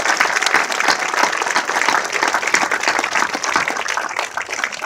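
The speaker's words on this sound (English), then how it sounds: "Join me in giving all of these supporters a round of applause." Outdoor crowd applauding at the official art lighting ceremony for the Oliver Lewis Bridge in Lexington, Kentucky: sustained, even clapping from many hands at moderate distance, carrying on steadily throughout.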